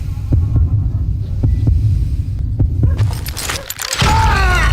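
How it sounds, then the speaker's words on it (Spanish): Steady low throbbing heartbeat pulses at a slow, even rhythm during a quick-draw duel in the western shooter Call of Juarez: Gunslinger, under a dull hum, ending in a burst of louder game sounds. "Cuando oigas los latidos podrás desenfundar primero"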